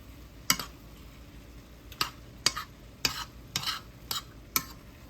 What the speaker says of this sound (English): So I hear it sizzling.